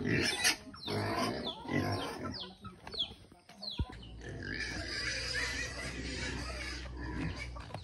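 Pigs grunt and squeal up close in a series of rough, choppy bursts that give way to steadier snorting and snuffling, with faint farmyard bird sounds in the background.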